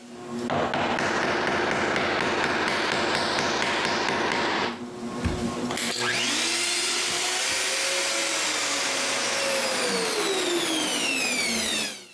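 A loud, steady motorized whine of a Woodpecker EP 320 mortising machine cutting mortises in a wooden door frame, dropping briefly mid-way, then resuming with a rising and falling pitch.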